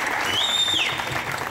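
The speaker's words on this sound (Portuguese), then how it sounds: "uma salva de palmas pro nosso dirigente aqui" A crowd at a youth Spiritist gathering claps for the event leader, a brief steady patter of applause with a thin electronic whine riding over it.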